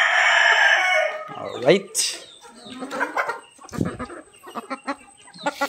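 Rhode Island Red chickens in a farm yard clucking and crowing around feeding time, close and busy, while someone speaks briefly over them.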